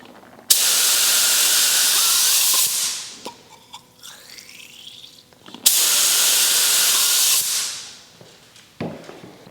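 A Harbor Freight Black Widow 1.3 clear coat spray gun sprays in two loud, steady bursts of about two seconds each. Each burst is a broad airy hiss that tapers off, with quiet gaps between them.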